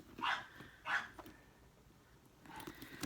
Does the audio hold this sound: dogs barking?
yes